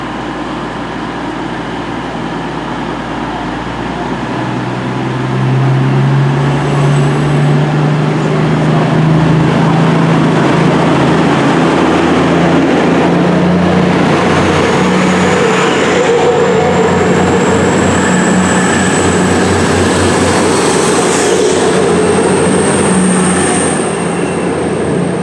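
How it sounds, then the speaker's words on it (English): An East Midlands Railway train pulls out of Leicester Station with a loud, close rumble that swells after a few seconds, joined by a rising electric whine and faint wheel squeal. "this train's about to leave"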